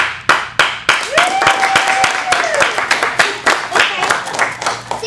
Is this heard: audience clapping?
yes